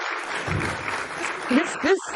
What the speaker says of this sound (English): This applause has started way before I even announced, eh?